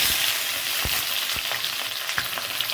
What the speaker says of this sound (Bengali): তেজপাতাটা জলে ধুয়েছি বলে তেজপাতাগুলো জলটা ছিটকাচ্ছে।